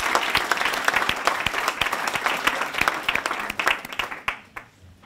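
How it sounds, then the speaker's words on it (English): Audience applause at a fellowship awards presentation for an award recipient, steady dense clapping from a hall full of people that thins and fades out near the end. "So can I please ask you all to put your hands together and congratulate Katherine."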